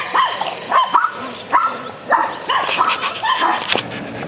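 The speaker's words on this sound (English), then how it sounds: "pardon my barking dogs here" Several dogs bark close by in quick, overlapping bursts, sharp yaps mixed with a higher whining yip toward the end.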